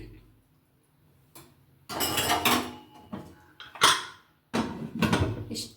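Hot rice is served from a pot onto a plate beside a sambar of chayote, with several metallic scrapes and clinks of a ladle against the vessel in short bursts separated by quiet pauses.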